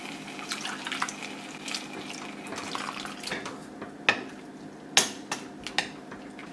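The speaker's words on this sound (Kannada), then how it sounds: "ಮಿಕ್ಸರ್ ಜಾರ್ಗೆ ಇನ್ನೊಂದು ಅರ್ಧ ಕಪ್ನಷ್ಟು ನೀರು ಹಾಕಿ ಚೆನ್ನಾಗಿ ಅದನ್ನು ಹಾಕಿದ್ದೀನಿ" Water is poured into a steel mixer jar holding a ground paste for a side dish, a continuous splashy pour with several sharp knocks and clinks toward the end.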